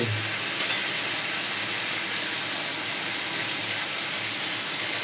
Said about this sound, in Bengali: বেসিনে জল পড়ে যাচ্ছে